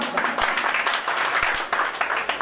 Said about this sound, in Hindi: दोस्तों एक मरतबा तालियों से इस्तेमाल कर दीजिए।